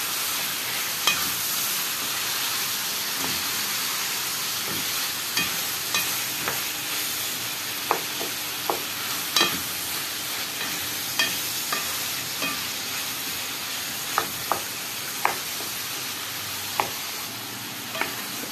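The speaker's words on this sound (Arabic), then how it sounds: "وهقلب كل الحاجات دي مع بعض" Lamb offal (liver, kidney and heart) stir-fries in a pan with garlic and cumin: a soft continuous sizzle broken by sharp, irregular clicks and scrapes of a utensil against the pan.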